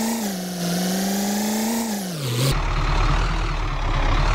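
A grain hopper truck drives in the video game Off Roading Epic, its engine giving a loud, steady droning hum that dips in pitch, then cuts abruptly to a deeper, rougher rumble for the rest of the clip.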